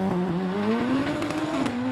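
Race car braking hard at the Prescott hill climb, a loud engine whine dropping and rising in pitch as it decelerates, with rough mechanical crackle, close and without talk.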